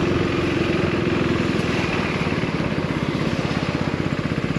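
Husqvarna Svartpilen 401 motorcycle filtering through traffic, a close, steady single-cylinder engine drone with a fast pulsing beat, holding fairly even throughout with no speech.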